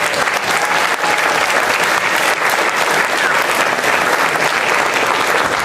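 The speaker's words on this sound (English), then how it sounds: "I think we should give ourselves a round of applause" Loud, sustained applause from an audience at a video game retrospective event in the Smithsonian, dense continuous clapping filling the room with no break throughout.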